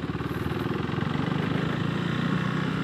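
A Husqvarna Vitpilen motorcycle engine runs steadily during a test ride, a continuous buzzing drone with regular firing pulses that holds fairly loud throughout, no voices.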